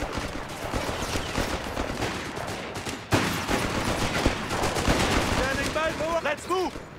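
Battlefield gunfire in Company of Heroes 3, a 4v4 Wehrmacht match: dense, continuous rattling shots and bursts, growing louder halfway through, with game voice lines and higher whistling or shell sounds layered on top near the end.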